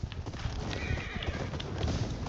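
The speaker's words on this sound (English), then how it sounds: "Look, it's wild horses." Wild horses gallop in the open world of the video game Ghost of Yotei, their hooves clip-clopping in a steady, busy rhythm with whinnies rising over the pounding, loud and close throughout.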